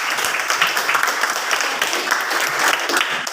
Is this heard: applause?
yes